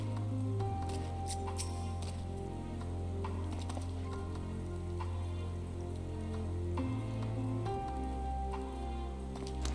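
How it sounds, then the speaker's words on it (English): Steady rainfall in the video game Final Fantasy XIV: Endwalker makes a continuous soft hiss that stays faint and even beneath low sustained game music, with a few light tapping steps. "It's raining."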